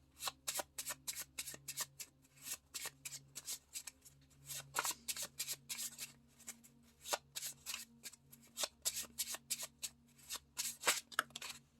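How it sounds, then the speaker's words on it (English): Tarot cards being shuffled in quick repeated riffles, crisp flapping bursts close up with brief pauses between rounds, no talking. "I'm going to shuffle some more"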